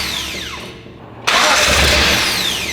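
The engine of an abandoned Datsun 280Z cranks with a steady, whirring starter sound, then catches with a sudden loud surge that roars on unevenly. The sound is close and harsh.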